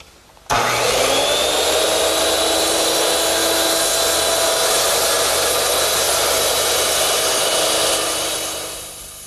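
A handheld circular saw makes a long crosscut through wood for a Shaker step stool. The loud, sustained whine comes up abruptly, holds steady for several seconds, then begins to wind down near the end, with no voices.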